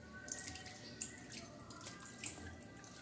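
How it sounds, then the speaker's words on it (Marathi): Water runs and splashes while a stone grinding slab (pata) is rinsed after grinding radish chutney with green chillies and garlic, a steady wash with a few sharper splashes and no talking. "तर आपला पाटा धुवून काढू ना आपण"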